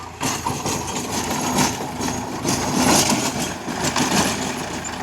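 A Sonalika tractor engine idles with a steady, close rumble that holds evenly throughout without revving.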